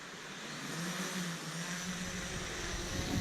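Motors of a fishing drone throttle up on a trip to the Coromandel Peninsula, giving a steady, rising whine with a tonal hum over broad wind-like noise outdoors, moderately near and with no talking.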